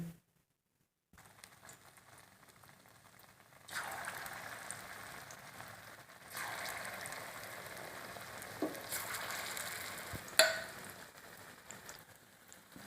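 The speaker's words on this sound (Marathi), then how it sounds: "आपण तळण्यासाठी आता तेल गरम करू कढई। ते आता छान गरम झाले। आपण आता भजे तळायला घेऊ।" Cabbage bhaji fritters frying in hot oil in a kadai, a soft continuous sizzle that rises in bursts as batter drops in, with a sharp clink near the end.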